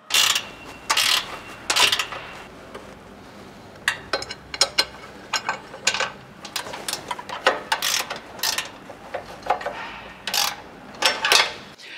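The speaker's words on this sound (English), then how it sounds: "reuse the same bolt and tighten them down" A ratchet tightens bracket bolts on a Ford Ranger chassis rail, rapid clicking bursts repeating in short irregular runs, close and fairly loud with brief pauses between strokes.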